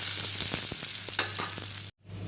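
Shallots, curry leaves and dried chillies fry loudly in coconut oil, giving a steady close sizzle with a few stirring taps, then a sudden near-silent break near the end before the sizzle returns more softly.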